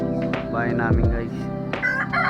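A backyard rooster crows one drawn-out, wavering call close by. A brief low cluck and a short background voice come before and after it.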